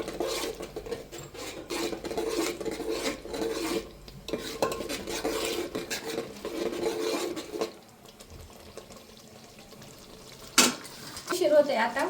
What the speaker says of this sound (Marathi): आता हा मसाला परतून घेते पटकन